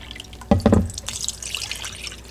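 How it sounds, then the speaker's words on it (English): Cucumber water pours from a cup in a beauty-blender cleaning routine, a short close splash and gurgle followed by a few faint drips and trickles, with no talking. "I'm going to take a cup, pour the cucumber water in."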